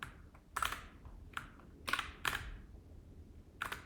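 Keys clatter on a computer keyboard as a project name is typed during Xcode project setup, coming in several short bursts of clicks with gaps between them, close and fairly quiet with no talking.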